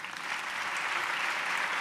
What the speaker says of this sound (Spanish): Un fuerte aplauso para José María